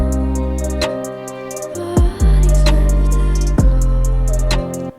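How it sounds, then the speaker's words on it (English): A beat with sustained string chords over deep booming bass and a steady, quick hi-hat tick, played loud and continuous. "Okay, so these are our strings."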